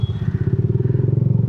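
A Yamaha Jupiter MX motorcycle fitted with a DBS racing exhaust idles close by with a loud, rapid, throbbing putter at a steady rhythm.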